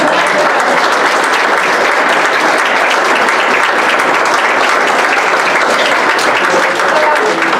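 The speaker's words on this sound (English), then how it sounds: "Yes, you can clap." A crowd applauds loudly and continuously, a dense wash of clapping that holds steady without letup.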